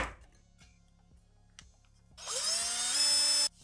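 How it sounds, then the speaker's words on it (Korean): A carbon fibre pipe being cut with a small power tool for an RC F-35B model build, quiet ticking at first, then a loud high-pitched whining cut lasting about a second before it stops abruptly. "카본 파이프를 잘라줍니다."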